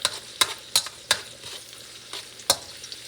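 Garlic frying in a pan crackles and sizzles, broken up by sharp scraping stir strokes that come in a loose rhythm about every half second, close by and with no one talking.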